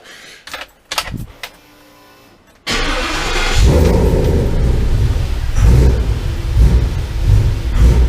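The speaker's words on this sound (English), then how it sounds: "So I'm going to fire it up, let you listen to it like this." A few clicks and a short whirring crank, then a car engine catches and roars up loudly before settling into a rough, steady run.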